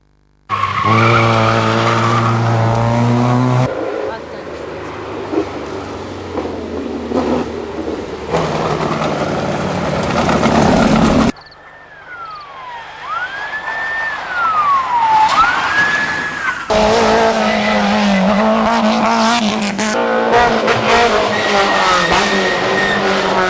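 Rally cars at the 1999 Rallye de la Matheysine rev and scream through gear changes in loud bursts, with skidding, a wailing siren-like sweep and a short quieter gap in between.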